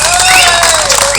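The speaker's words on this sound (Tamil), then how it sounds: "யூடியூப் சேனலை முழுவதும் ஒரு கைதட்டு கொடுக்கும்." A crowd at a Tamil drama performance breaks into a short burst of dense, loud clapping and cheering, with a high tone ringing through.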